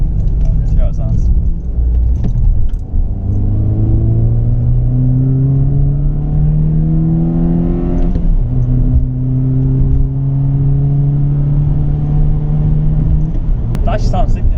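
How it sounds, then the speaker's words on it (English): An MG3 1.5 with a performance air intake is revved repeatedly, each run rising in pitch before easing off, a loud close engine drone under talking voices. "Let's see how it sounds."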